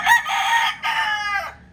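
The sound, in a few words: fighting rooster crowing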